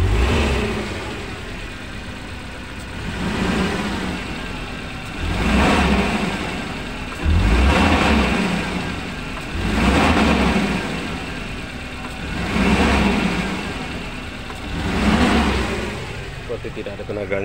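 A Suzuki Carry Futura pickup truck engine with a misfire revs up and down repeatedly in regular surges, each rev swelling and then falling back to a rough, shaking idle, heard close by.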